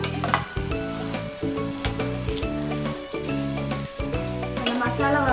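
Masala sautéing for a South Indian chicken gravy gives a steady oily sizzle with occasional stirring scrapes, running continuously under background music with no talking.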